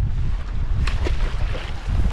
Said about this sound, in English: The winds are just ridiculous.